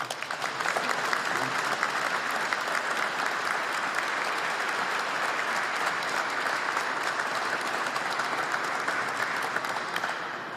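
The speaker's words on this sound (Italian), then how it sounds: "Credo che un applauso ci voglia." Sustained audience applause fills the whole stretch, a dense wash of many hands clapping at an even level without a clear peak, heard at a moderate distance at a public event for artisans.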